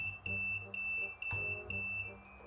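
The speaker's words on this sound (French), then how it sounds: "Si maintenant vous allumez la roue sans faire exprès, elle va biper." A steady high electronic beep tone from a Rockwheel electric unicycle with its gyroscope disconnected sounds continuously, with soft knocks and a low hum beneath it.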